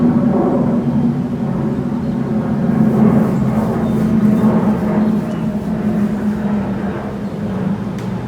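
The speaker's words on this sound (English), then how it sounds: "let this plane pass." A passing airplane drones in a broad, steady low rumble that stays loud and constant throughout, heard outdoors near a house with no talking.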